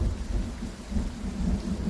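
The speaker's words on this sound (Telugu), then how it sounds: "వర్షం పడుతోంది, లోపలికి రా." Rain falls steadily with a deep rumble of thunder underneath, a dense movie storm effect, continuous and fairly loud with no voices.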